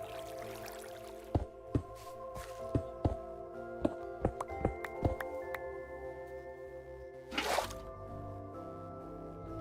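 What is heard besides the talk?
water flowing in Minecraft video game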